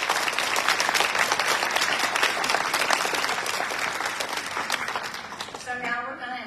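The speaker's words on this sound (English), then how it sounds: "I would like a round of applause. Let's celebrate our graduates tonight." Audience at a 2023 Charter College Wenatchee graduation ceremony applauds the graduates, a dense, steady wash of many hands clapping that thins and fades near the end.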